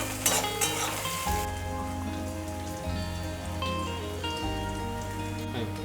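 Chopped onions frying in a pan over a medium-low gas flame, giving a steady, close, crackling sizzle throughout under faint background music, with no speech.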